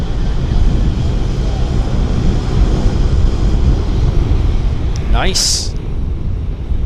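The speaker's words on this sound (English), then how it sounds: "It's an A321 turning onto the active ahead of the porter." An Airbus A321 airliner turning onto the active runway at Vancouver airport gives off a steady, broad engine rumble and roar at a distance, with a brief chirp near the end and a short spoken remark over it.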